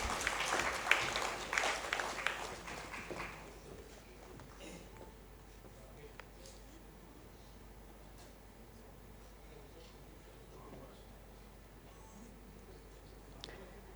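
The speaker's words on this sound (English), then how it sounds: "A big round of applause for everyone." An audience at an electrical-standards summit applauds as panelists receive mementos, a burst of clapping for the first few seconds that fades into a quiet room with scattered small clicks and rustles.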